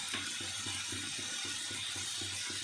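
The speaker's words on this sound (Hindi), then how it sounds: "तो इमा थोड़ा सा पानी डालना है" Water runs in a steady, rushing stream while a little is poured into paneer saag masala cooking in a pan, with a faint rhythmic clatter beneath the continuous flow.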